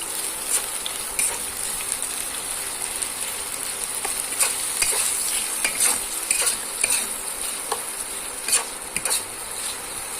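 Chopped onion sizzles in hot oil in a kadai, a steady frying hiss with repeated scrapes and clicks of a spatula stirring through it, no voices.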